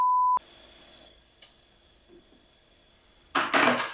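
A Google voice assistant gives a single clean, steady electronic beep to confirm a 15-minute timer, followed by near silence and then a burst of rustling noise.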